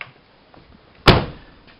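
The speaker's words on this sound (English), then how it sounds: "Okay, we're over here by the door. Open it up. Let's lock the door." A single sharp thunk as the door lock of a 2003 Mercury Mountaineer engages, loud and close, after a quiet moment with faint background noise.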